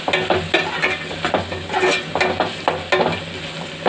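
Vegetable pulao ingredients, including shahi jeera, are stirred in a pan, giving a loud close scraping and sizzling with rhythmic strokes of the spoon about every half second and a steady frying hiss beneath.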